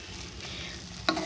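Chhana sandesh mixture stirred in a karai over a gas flame, a faint, soft scraping with light sizzle, ending in one sharper scrape of the spatula against the pan.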